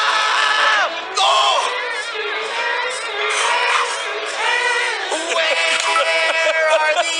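A large crowd yells and cheers at a live event, a dense roar of many voices sustained loudly throughout with rising whoops and shouts.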